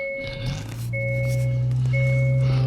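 A 2022 Hyundai Sonata N-Line cranks briefly and fires up, settling into a steady, close idle with a rising engine note and a chime sounding alongside.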